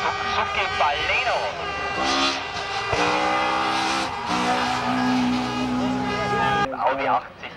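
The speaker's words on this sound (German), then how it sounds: "Er pilotiert hier einen Suzuki Baleno." Suzuki Baleno race car driving up a hill climb course, its engine note rising and falling loudly and continuously under steady talk from a commentator.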